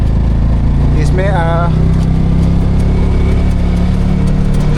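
A Piaggio Ape three-wheeler engine drones loud and close in second gear, holding a steady high buzzing pitch against its rev limiter, with a voice talking over it.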